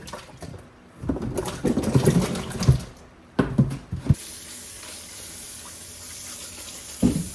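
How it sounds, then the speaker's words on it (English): Whole apples are washed in a sink of water with a splash of vinegar, with bursts of splashing and sloshing, handling thumps, and a quieter stretch of dripping and running water toward the end. "I just put them in a sink full of water with a splash of vinegar"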